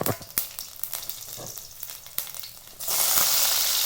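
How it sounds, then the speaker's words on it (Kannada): Garlic dropped into hot oil for tempering in a pan, a few close clinks and taps followed by a sudden loud, sustained sizzle that holds to the end, no talking. "ಇದಕ್ಕೆ ಎಣ್ಣೆ ಹಾಕ್ಕೊಂಡು ಒಗ್ಗರಣೆ ಹಾಕ್ಕೊಳ್ಳೋಣ ಅಂತ"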